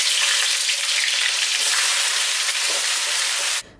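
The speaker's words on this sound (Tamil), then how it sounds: "நெய்யும் நல்லா சூடானதுக்கப்புறமா இப்போ நம்ம எடுத்து வச்சுருக்க பட்டை, கிராம்பு, ஏலக்காய் சேர்த்துக்கலாம்." Cinnamon, cloves and cardamom fry in hot ghee with a loud, continuous close-up sizzle and crackle that cuts off abruptly near the end.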